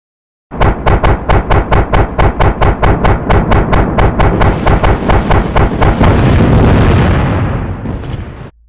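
Call of Duty Mobile strafe run scorestreak firing in a steady rapid train of loud booming bursts, about two per second, swelling into a dense roaring wash of explosions near the end, with no talking.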